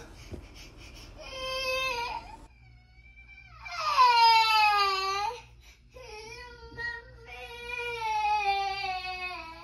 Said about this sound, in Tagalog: And then, si JK maririnig nyo dyan umiiyak